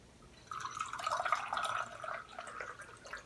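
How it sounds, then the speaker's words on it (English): Sencha green tea pours from a teapot into a cup, a steady trickling stream of liquid lasting a couple of seconds before tapering into a few drips, close and fairly quiet. "So let's go ahead and pour this out."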